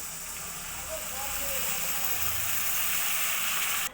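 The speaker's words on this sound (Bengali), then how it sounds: "এবার জল দিয়ে দেব পরিমাণ মতো" Water is poured onto hot spice paste fried with salt and turmeric for a Bengali fish curry, raising a loud, steady hiss and sizzle that lasts throughout and cuts off abruptly at the end.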